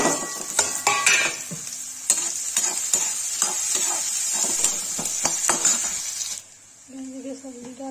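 Onions sizzle with red masala in a pan for an egg curry, stirred with frequent metallic scrapes and clicks. The frying cuts off near the end, and a voice is heard.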